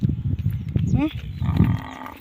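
A cow calling out on seeing its owners near a village pasture: a short, rising moo heard close by, with people talking around it.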